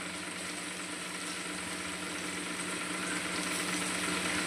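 A paste of ginger, green chili and garlic frying in hot oil beside cooked tomatoes in a home kitchen. A steady, close sizzle hisses without pause and grows slightly louder toward the end, with no talking.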